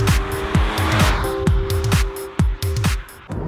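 A Toyota GT86 sports car with a 6-speed manual drives hard, its engine revving in repeated rising bursts with sharp drops between gear changes, tires squealing along the way, loud and close.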